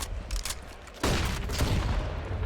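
A Galil rifle fires in a Counter-Strike match: quiet game ambience, then a sharp burst of gunfire at one second that carries on as sustained shooting, fairly faint overall.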